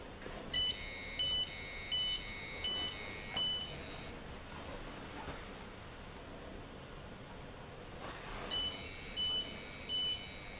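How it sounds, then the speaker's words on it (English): Electronic alarm beeping in bursts of four sharp, high tones, then a silent gap, then another burst of three or four beeps, heard faintly over steady background hiss. "now I can hear the alarm goes off"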